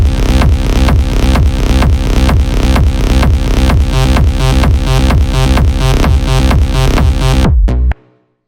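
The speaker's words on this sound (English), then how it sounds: "It's the ARP growl bass" An ARP growl bass synth loops a driving techno pattern, loud and dense with rapid repeated gritty notes in a steady rhythm, stopping abruptly near the end with a short tail.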